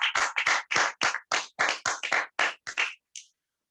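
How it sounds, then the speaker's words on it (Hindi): About a dozen sharp, evenly paced hand claps at a motivational business seminar, loud and close, each burst distinct with silence between, stopping after about three seconds. "जबरदस्त तालियां होनी चाहिए।"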